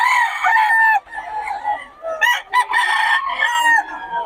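Gamecock roosters at Bocaue, Philippines crow loudly and close by, several overlapping cock-a-doodle-doos with sharp clucks between, filling the short stretch.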